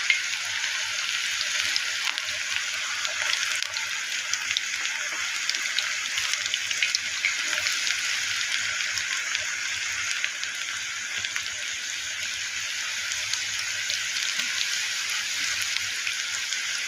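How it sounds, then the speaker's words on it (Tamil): Onion pakoda deep frying in hot oil, a steady continuous sizzle and crackle with a faint background hiss throughout, even in level and close, no voices. "சூப்பராக பக்கடா பொரிஞ்சிட்டு பாருங்கள்"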